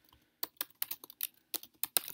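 Someone types a comment on a computer keyboard: a quick, uneven run of about a dozen crisp, close key clicks with short gaps, and no talking.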